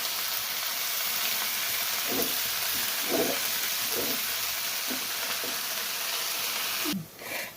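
Mulai keerai (amaranth greens) sizzle steadily in hot oil in a pan, and several soft scraping stirs sound over the constant frying hiss, with a brief change near the end.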